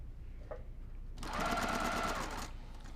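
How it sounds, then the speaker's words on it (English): Sewing machine running a quarter-inch seam on quilt backing, a quiet steady whir with rapid stitching rattle lasting about a second and a half, with soft room noise around it. "I'm just going to do 1/4 inch seam"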